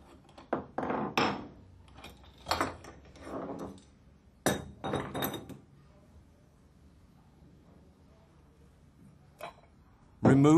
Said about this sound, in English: Take off the lower clamp.